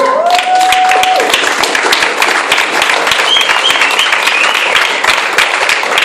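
A church congregation at a Sunday service applauds God with loud, sustained clapping that fills the whole stretch, dense and close.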